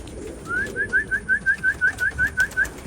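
A racing pigeon coos repeatedly in a steady rhythmic series, a dozen soft rolling calls over low outdoor background noise.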